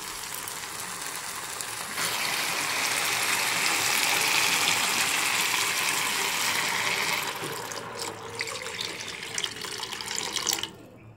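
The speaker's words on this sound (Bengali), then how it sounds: "পরিমাণ মতন জল দিয়ে দিলাম।" Water gushes into a pan of spiced gravy for several seconds, a loud steady pour that then tapers into softer bubbling and a few light clinks.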